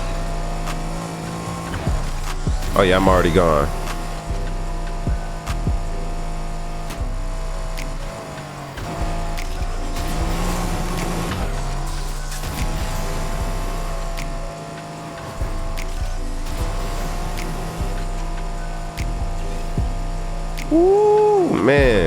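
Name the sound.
car engine racing in video game Need For Speed Heat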